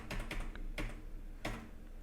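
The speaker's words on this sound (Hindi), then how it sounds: "एंटर प्रेस कर देंगे।" Enter and other keys are pressed on a computer keyboard while making accounting entries in Tally Prime, giving a few sharp, close clicks spaced irregularly in a quiet room.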